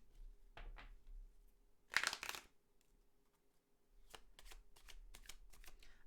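A deck of tarot cards being cut and shuffled during a reading, with a quick burst of riffling near the start and a series of soft card slaps and shuffles later, close and quiet with no talking.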